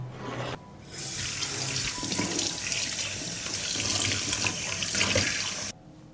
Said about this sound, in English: First, I'll wash the eggshells.